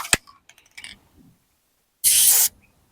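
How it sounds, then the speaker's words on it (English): A short aerosol burst of grease lubricant sprayed onto the door latch of a 1999-2006 Chevy Silverado extended cab, a single loud hiss lasting about half a second after some faint clicks and handling noises. "Just spray it, on the latch, on the part that kind of swivels."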